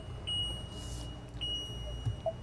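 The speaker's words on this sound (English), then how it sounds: "The reason it's beeping is because I've got this seat around." Two short electronic chimes about a second apart over a low steady rumble, a quiet seat warning tone in a 2025 Winnebago EKKO 22A all-wheel-drive camper van cabin.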